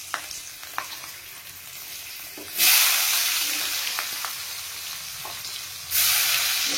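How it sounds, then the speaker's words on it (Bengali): Sliced onions hit hot oil tempered with black cumin and green chillies, giving a loud sudden burst of sizzling that slowly settles, with scattered spatula taps, then a second sharp surge of frying near the end. "এবার দিয়ে দিচ্ছি পেঁয়াজ"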